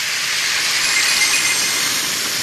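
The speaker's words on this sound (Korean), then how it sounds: "끓고 있는 물을 한 4컵 정도를 여기에다 부으세요." Boiling water being poured into a pot of curry with vegetables in a kitchen, producing a steady loud hissing rush, close and continuous, with no talking.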